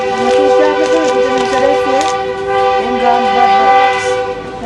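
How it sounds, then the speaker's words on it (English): A train passes nearby with its horn sounding loud and sustained, holding steady tones that waver slightly. Rolling wheel noise runs underneath throughout. "Train coming again."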